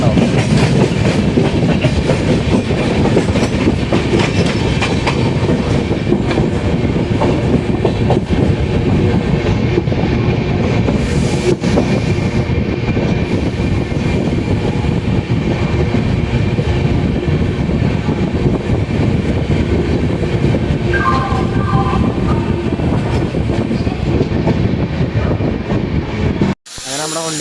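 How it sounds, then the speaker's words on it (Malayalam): The Pothigai Superfast Express rolls into Tambaram station, a loud, continuous rumble and rattle of carriages on the rails heard close up from on board, running steadily before cutting off abruptly at the end. "നമ്മുടെ വണ്ടിയുടെ സെക്കൻഡ് സ്റ്റോപ്പായിട്ടുള്ള താമ്പരം സ്റ്റേഷനിലേക്ക് കയറിക്കൊണ്ടിരിക്കുകയാണ്"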